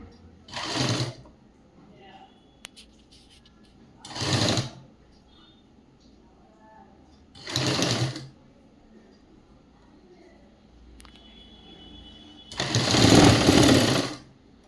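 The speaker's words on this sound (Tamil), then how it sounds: "இந்த பக்கம் அடிச்சிடறோம்." A sewing machine stitches a pleated school uniform skirt in four short runs. The last run is the longest, and there are quiet gaps with faint handling noises between them.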